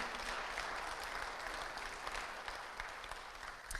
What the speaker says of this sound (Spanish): Dele un fuerte aplauso al Señor en este momento.